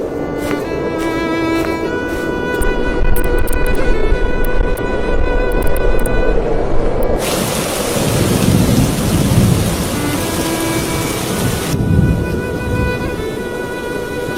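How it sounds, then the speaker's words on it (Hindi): Steady rain pours down with rumbling thunder through a cold-weather scene, a dense, loud wash of rain that thickens midway, with low rolling booms beneath it and no voices. "हे भगवान, बारिश होने लगी।"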